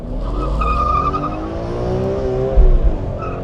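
A BMW E46 M3 engine revs at full throttle, loud and close, with a strong harmonic howl that sweeps upward and holds high.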